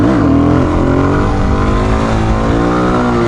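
A Suzuki DRZ400S dual-sport motorcycle engine held at high revs during a wheelie, a loud, close, sustained buzzing drone with pitch wavering slightly up and down.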